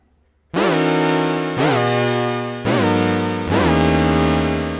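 A bright, brassy synthesizer note from a Muse synthesizer repeated four times, each attack swooping quickly upward in pitch from an LFO envelope before holding steady; loud, with no voices.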